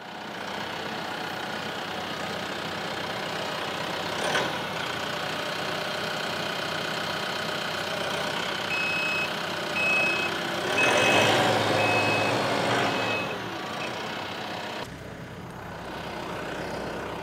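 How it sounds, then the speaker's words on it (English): A tractor engine runs steadily with repeated reversing beeps sounding over it, while its bucket scoops duckweed from a pond; a louder stretch of engine noise rises near the middle. "I'm gonna use the bucket of the tractor."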